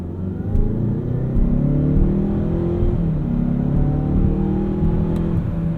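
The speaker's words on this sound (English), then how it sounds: "The first order of business is to feel that turbo." A 2019 Mazda CX-5 Signature with its turbocharged engine accelerating, heard from inside as a loud, steady rumble with rising, shifting engine tones that climb through the rev range without speech.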